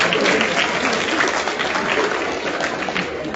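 An audience claps steadily at a celebration after a cake ceremony, dense, loud applause filling the whole stretch and easing slightly toward the end.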